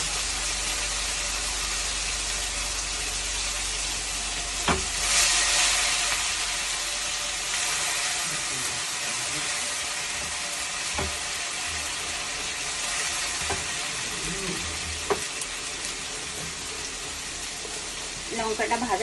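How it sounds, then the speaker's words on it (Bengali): Green chilli paste fries in hot oil in a pan while a sour-spicy puti fish curry is being cooked. A steady, close sizzle hisses throughout, broken by a few clinks of a utensil. "লঙ্কাটা ভাজা হয়ে গেছে"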